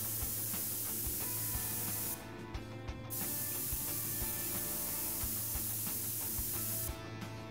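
Two hissing bursts from a cleaning spray can in the Prison Simulator video game, a longer one followed later by a brief one, over a steady mechanical hum and game background.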